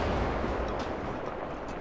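Tank cannon shots in War Thunder ring out as rounds bounce off a German Panzer II light tank, a dense, steady wash of battle noise with faint sharp impacts and no talk.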